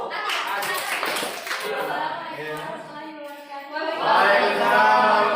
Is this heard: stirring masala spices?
no